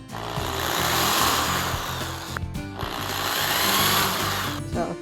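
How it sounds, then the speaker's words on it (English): A power drill whirs in two loud bursts separated by a short pause, grinding steadily through a plastic egg lid, with no voices. "I drill 2 holes in the lid of the egg"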